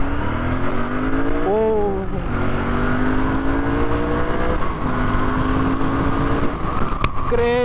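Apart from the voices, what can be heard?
Royal Enfield Bear 650 motorcycle accelerating hard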